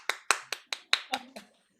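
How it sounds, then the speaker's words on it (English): Several people clap for a pair of dancers at a Parkinson's dance session, a short run of about seven distinct claps, fairly close and moderately loud, tapering off at the end. "Let's give them a big clap."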